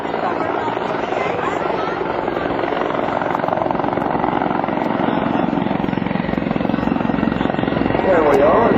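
Close, loud and continuous, a CH-146 Griffon helicopter performs demonstration maneuvers at an Air National Guard open house, its rotor thrum steady throughout while a voice comments.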